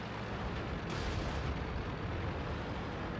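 Artillery fire in the World of Tanks video game: a heavy, sustained broadband blast and rumble, loud and dense throughout, with a brighter burst near the one-second mark.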